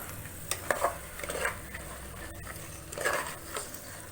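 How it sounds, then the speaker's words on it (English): Soaked black chickpeas stirred in a pan while frying with masala, giving scraping spoon strokes and soft sizzle in bursts, close and moderately loud, with no talking. "Fry it for about 3 to 4 minutes along with these masalas."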